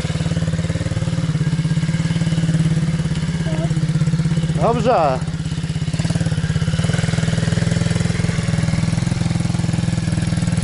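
An MRF Black Ops pit bike engine runs at a steady, loud, close rumble throughout, with a brief spoken word partway through.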